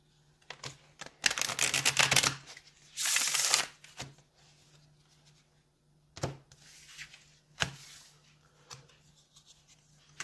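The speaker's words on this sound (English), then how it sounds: "Let's go ahead and pull from the tarot, and I'll get one more shuffle in." Tarot cards being shuffled in several quick riffling bursts, close and crisp, separated by quiet pauses and light handling taps.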